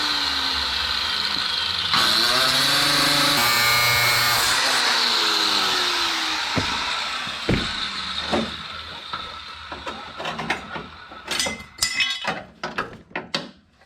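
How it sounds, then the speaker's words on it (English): An angle grinder cuts metal in a workshop building a car, a steady loud whine that holds and then winds down, followed by scattered clinks and clatter of tools and metal pieces. "you can get to the point where you can hear the grinder"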